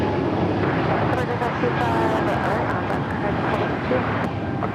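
Continuous broadband roar of an airliner taking off from runway 25 right at LAX, loud and steady throughout, with radio chatter and a voice talking over it.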